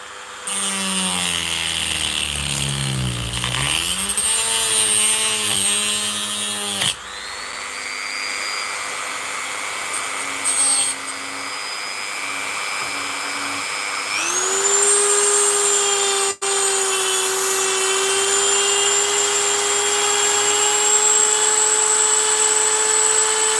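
A Dremel rotary tool cuts cells out of a Milwaukee power-tool battery pack, whining loudly and continuously with its pitch rising and falling as the load changes and the speed shifts.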